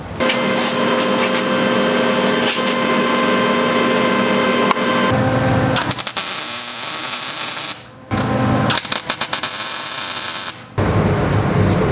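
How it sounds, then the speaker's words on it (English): A metal headlight guard ring for a Honda CB500F scrambler being welded, a loud continuous buzzing crackle with several brief pauses between bursts, close up and with no talk. "I'm gonna go ahead and weld it together at this point over here"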